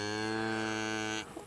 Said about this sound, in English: he is such a good calf, isn't he, Hazel?